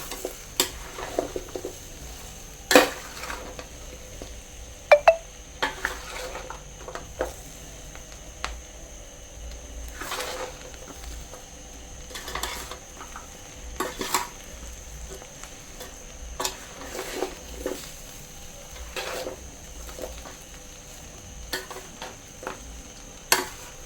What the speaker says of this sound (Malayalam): സാവധാനത്തിൽ ഇളക്കി നല്ലപോലെ മിക്സ് ചെയ്യണം